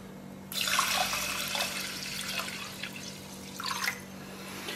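Water runs steadily into a cooking pot for Indonesian chicken porridge. A liter is poured in a continuous close stream with a few splashier bursts toward the end.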